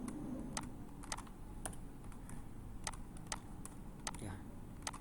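Computer keyboard keys are tapped while text is deleted, giving scattered single clicks and short bursts of typing at a moderate level over a low background hum.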